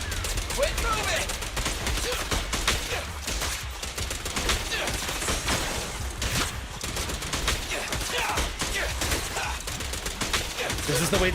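Rapid gunfire rattles on in the Zenless Zone Zero video game, dense strings of shots and hits with game effects layered over them, and a voice breaks in now and then.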